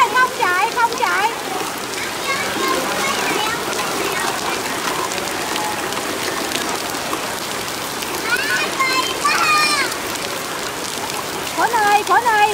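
Steady heavy rain pours down while children bathe in it, their high shrieks and shouts breaking through the constant hiss of falling water.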